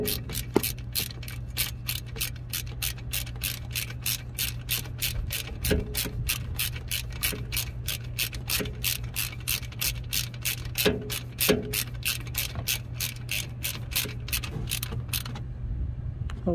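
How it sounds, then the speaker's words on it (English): Rapid ratchet clicks from a long extension turning bolts on an Onan gas generator, steady and close, running almost continuously for about fifteen seconds over a low hum. "And my ratchet."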